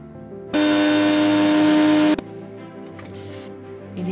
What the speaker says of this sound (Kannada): ಇದನ್ನು ಮಿಕ್ಸಿಗೆ ಹಾಕ್ತಾ ಇದ್ದೇನೆ